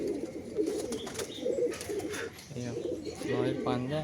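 Madrasi pigeons coo in soft, repeated low calls, moderately close, while someone talks over and between them.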